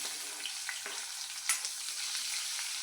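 Onion sizzles in hot oil with garlic for cabbage bhaji, a close, even frying crackle broken by a few light spoon taps and one louder scrape.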